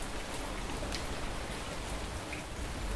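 Steady rain falls in the survival game Fountain of Youth, a constant, even hiss of drops pattering on surfaces with no voices.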